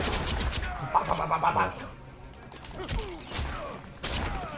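Erron Black's pistols in Mortal Kombat 11 fire in a quick burst of sharp shots, followed by scattered mechanical clicks, thuds and impacts, with a few more hits near the end.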